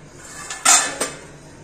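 Steel pots and griddles clatter in a home kitchen during roti-making, with a few sharp metallic clanks and a ringing knock over quiet background.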